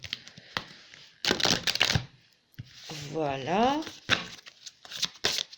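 Oracle cards are riffled and shuffled in bursts of crisp papery flutters, close to the microphone, alternating with someone speaking in French.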